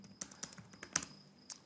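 Typing on a computer keyboard while writing code: a handful of distinct, irregularly spaced key clicks, close and moderately quiet, with no talking.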